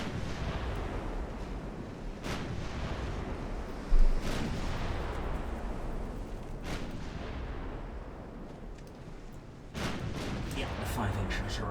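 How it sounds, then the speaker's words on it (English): Five-inch naval guns firing during a battleship and cruiser engagement in Ultimate Admiral Dreadnoughts, several sharp booms spaced a few seconds apart over a continuous rumbling roar of battle. "Yeah, the 5-inchers are opening up as well now."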